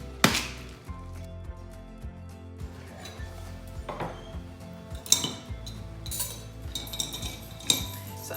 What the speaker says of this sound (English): let's give that a good shake